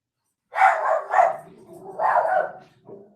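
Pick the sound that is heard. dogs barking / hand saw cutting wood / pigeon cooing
dogs barking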